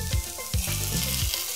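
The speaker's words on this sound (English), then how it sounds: "my pot's heating up, so I'm gonna add my corned beef" Corned beef sizzles and fries in a hot pot, a steady crackle broken by several short stirring scrapes, loud and close, with no talk.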